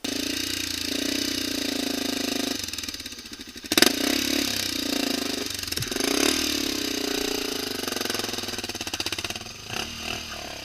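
Off-road motorcycle engine running steadily at close range during a group off-road ride, with a few brief throttle blips and clattering mechanical noise throughout.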